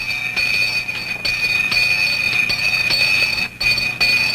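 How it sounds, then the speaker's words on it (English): A bath bell at a poor farm rings in steady repeated strokes with a bright, sustained metallic tone that carries through the whole stretch. "That's the bath bell."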